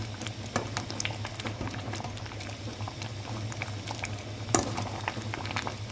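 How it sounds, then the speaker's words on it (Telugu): A pot of dal boiling steadily, with a continuous bubbling patter and a low simmering hum throughout, close and moderately loud. "పప్పు చూసారు కదండి ఎంత బాగా అనేది ఉడుకుతుందో"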